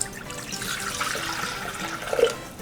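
Water poured into a Thermomix bowl for steaming, a steady splashing stream at close range that runs continuously, rising slightly near the end, with no talking.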